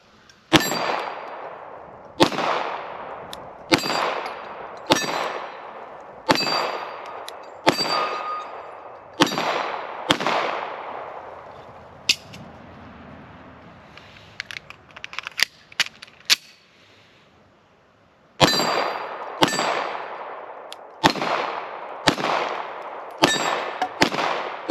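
A Beretta 92 pistol fires a string of loud, sharp shots at steel targets, each with a ringing metallic clang, then a brief lull with faint clicks before another rapid volley.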